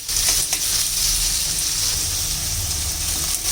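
Cubed potatoes and spiny gourd (kakrol) fry in an oiled pan, giving a loud, continuous crackling sizzle up close, with no talking over it.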